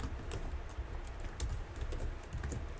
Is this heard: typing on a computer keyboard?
yes